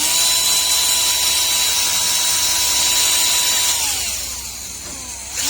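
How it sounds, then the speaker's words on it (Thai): A power drill bores a small hole in scrap material for a homemade water faucet head, whining at a steady high pitch before the motor winds down near the end. "เราก็จะใช้ สว่านนะครับ ใช้ในการเจาะรูนะครับ เจาะเข้าเป็นรูเล็ก"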